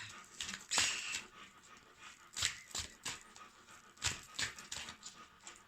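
A dog lying at a person's feet pants steadily from the heat, soft and close, in rhythmic bursts of quick breaths with brief pauses between them.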